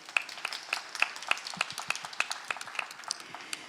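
Sparse, scattered hand claps from a small audience at a Korea–Japan diplomatic forum session, with individual claps distinct and uneven, fairly quiet in a room, no talking over them.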